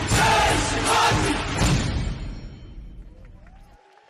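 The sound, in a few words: audience applause at a Maharashtrian folk dance show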